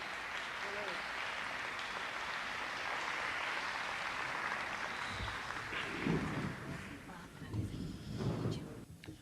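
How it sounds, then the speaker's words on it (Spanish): Conference audience applauding as two guests are welcomed on stage, a steady sustained clapping that fills the room, with a few louder bursts and a voice starting toward the end. "recibamos a los dos con un fuerte aplauso"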